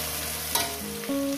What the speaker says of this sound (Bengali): পেঁয়াজটাকে আমি ভালো করে মিনিমাম 2-3 মিনিট ধরে ভেজে নেব।